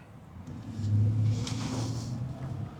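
A car driving on a US road, its engine rumbling low and swelling as it speeds up, heard close from inside the vehicle with a faint whoosh of passing air and no talking.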